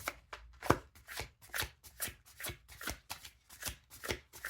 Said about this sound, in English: You can fast forward through the shuffling.